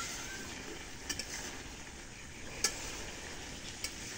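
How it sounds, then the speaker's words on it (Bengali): Curry being stirred in a pan, giving a soft, steady sizzle with a few faint scrapes and clinks of the spoon, quiet and close with no voices. "এখন একটু নাড়া দিয়ে আবার ঝোল দেব।"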